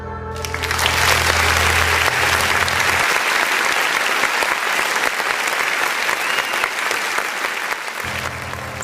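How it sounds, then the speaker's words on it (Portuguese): Sustained audience applause from a crowd, loud and dense with rapid overlapping claps lasting several seconds, rising quickly at the start and holding steady, with no talking over it. "Todos aplaudiam com absoluta naturalidade"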